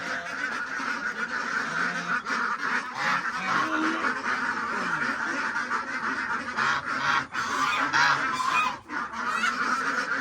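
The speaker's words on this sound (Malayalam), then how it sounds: "ഇതിൽ 5 താറാവുണ്ട്" A small flock of five farm ducks, four of them laying females, keeps up loud, busy quacking and honking close by in one overlapping chorus that runs throughout.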